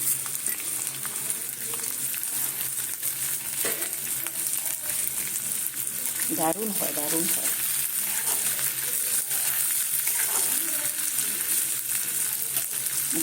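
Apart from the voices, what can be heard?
onion, green chili and five-spice frying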